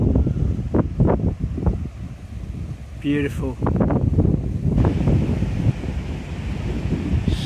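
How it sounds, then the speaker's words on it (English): Strong wind at a seawall in Teignmouth buffets the microphone with a low, roaring rumble and gusts, while a person speaks over it. "Certainly extremely windy,"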